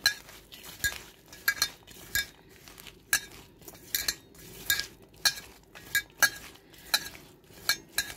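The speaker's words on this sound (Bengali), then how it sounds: "দেখুন ভিউয়ার্স সরিষার তেল দিয়ে মাখাচ্ছে" Sliced radish salad with chopped coriander is tossed with mustard oil in a bowl, producing a steady run of rhythmic clinks and scrapes of a utensil against the bowl, close and fairly quiet.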